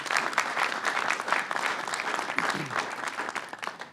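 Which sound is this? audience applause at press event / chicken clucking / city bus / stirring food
audience applause at press event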